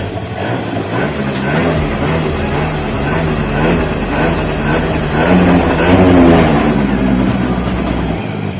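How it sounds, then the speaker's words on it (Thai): A Suzuki Verde 50cc motorcycle engine revs repeatedly close by, its small-engine buzz rising and falling in several blips over a steady idle, with no talking. "เดี๋ยวมาฟังรอบเบิ้ลกัน"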